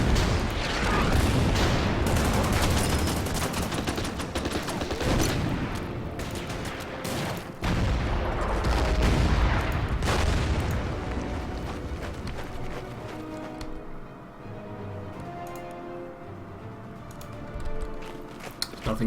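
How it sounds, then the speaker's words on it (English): Bombing raid in the strategy wargame Order of Battle set in the Malta desert campaign, a dense run of rumbling blasts and crackling bursts for about twelve seconds, thinning into sparse distant thuds and quiet game sounds. "let's bomb these guys"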